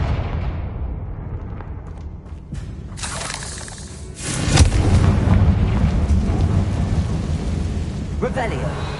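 A fire spell explosion in Hogwarts Legacy: a quiet lead-in, then a loud rumbling blast around the middle that rolls on as a heavy low roar with crackling debris.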